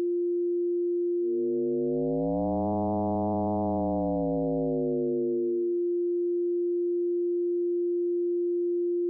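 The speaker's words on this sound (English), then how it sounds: "here is a sine wave from the modulation oscillator of the 261 being frequency modulated with a sine wave from the principal oscillator" Buchla 200e synthesizer producing a steady sine tone that swells into a rich, buzzy frequency-modulated sound, then thins back to the plain pure tone, which holds alone before cutting out.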